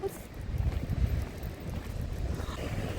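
Sea waves washing and splashing against the piers on the Odesa coast in winter, with steady wind buffeting the microphone in a constant low roar.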